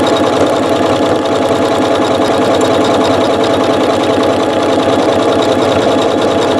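A sewing machine runs steadily at a short stitch length, stitching with variegated thread; a dense, fast mechanical whirr with rapid needle clatter holds loud and unbroken throughout, with no talking.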